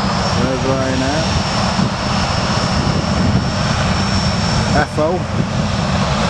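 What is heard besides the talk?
Ryanair airplane engine at Manchester Airport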